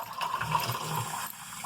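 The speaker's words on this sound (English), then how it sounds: "I'm sorry that you hear water running." Tap water runs in a steady, moderate stream close by, a continuous gushing wash with slight fluctuations throughout, with no voices over it.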